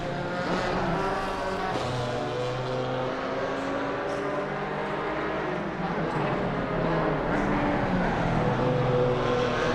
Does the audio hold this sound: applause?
no